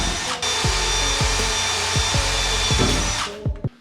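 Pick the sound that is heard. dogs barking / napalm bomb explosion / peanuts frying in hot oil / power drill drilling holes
power drill drilling holes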